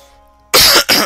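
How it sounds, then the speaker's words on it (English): A person coughs twice in quick succession, loud and close, right after a stretch of quiet game music. "so sorry for the cough"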